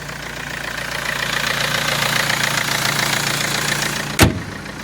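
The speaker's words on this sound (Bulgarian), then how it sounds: "Работи гладко, балансирано. Безупречен двигател." A Mercedes C-Class W204 facelift 2.2 CDI diesel engine (OM651, 136 hp) idles steadily and smoothly with an even, low rumbling hum, then a brief sharp click or knock near the end.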